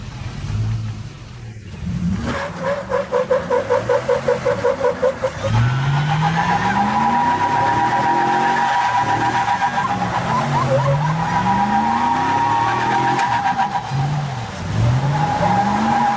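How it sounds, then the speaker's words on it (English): A supercar squeezing along a road far too narrow for its wide body, its engine revving and surging in repeated bursts, loud and close, with tire noise and no talking. "a supercar trying to squeeze through a road that's way too narrow for its massive frame"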